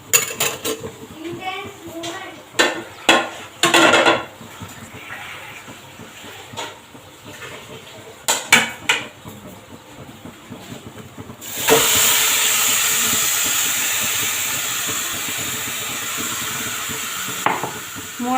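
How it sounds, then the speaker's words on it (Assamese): Marinated chicken added to a hot nonstick kadai: a few clinks and clatters of utensils, then a loud, steady frying sizzle that carries on to the end. "এতিয়া মই ইয়াত চিকেনখিনি দি দিম মেৰিনেট কৰি থোৱা।"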